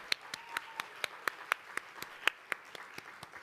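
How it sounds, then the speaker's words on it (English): Applause from an audience at a global tech event's main stage, with scattered individual claps standing out crisply over a soft, sustained crowd clapping for a few seconds. "Please give a round of applause"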